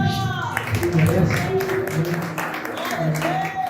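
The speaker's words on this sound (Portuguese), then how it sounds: "Você pode aplaudir Jesus" A church congregation claps and cheers in a steady, moderate burst of applause, with voices and sung or shouted tones mixed throughout.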